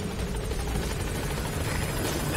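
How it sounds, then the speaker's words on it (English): A helicopter in the video game Metal Gear Solid V: The Phantom Pain gives a steady, loud rotor drone with low chopping throb, running alone without a break. "let's jump to a helicopter"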